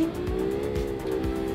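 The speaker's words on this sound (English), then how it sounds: "Easing off the brakes, replacing it with some throttle." An executive car in a racing video game coming off hard braking onto the throttle, a steady close engine drone that rises slightly in pitch with faint tire noise, heard alone.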